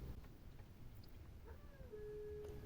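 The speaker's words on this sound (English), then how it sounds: "those are dogs" Dogs howl faintly in the distance, a thin drawn-out wailing tone rising and holding steady over a low background hum.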